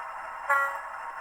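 A brief diesel locomotive horn toot sounds over a steady mechanical hum, short and moderately loud, as the uncoupled locomotive leaves its train during shunting.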